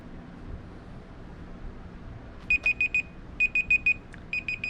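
A kitchen timer goes off after a chicken cooks in a Lodge Dutch oven, giving three groups of short, bright electronic beeps, four or five per group, above a low, faint room hum.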